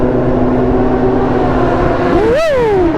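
Sport motorcycles, including a BMW S1000RR, race past at high revs: a steady engine drone gives way to a loud, rising and falling whine as a bike sweeps by close, with no talk.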